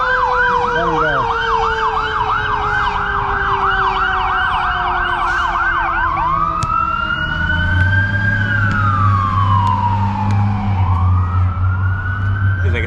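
A fire truck passes with its siren cycling in rapid yelps, then sliding into a long slow wail that falls in pitch as the vehicle moves away, followed by a deep engine rumble from nearby traffic.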